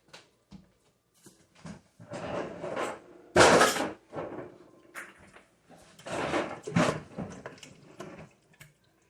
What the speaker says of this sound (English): I'm just going to stir it all together